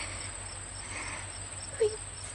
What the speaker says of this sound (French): Dis au grillon qu'il se taise.